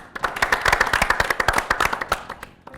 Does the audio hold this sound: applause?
yes